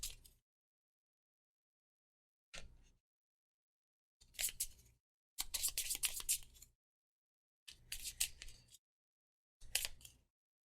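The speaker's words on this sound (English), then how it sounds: "Give these a little shuffle," A deck of playing cards being shuffled between turns of a tabletop space-combat game, heard as six separate riffling bursts of crisp papery flutter with silent gaps, close and moderately loud, with no talk.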